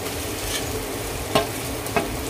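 A mixture goes into a pan of softened tomatoes frying in oil, and it sizzles steadily up close while a spoon stirs, with two sharp scrapes or taps against the pan. No one speaks.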